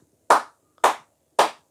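Three sharp, close hand claps come at an even pace about half a second apart. Each is crisp and separate, with silence between them and no voices.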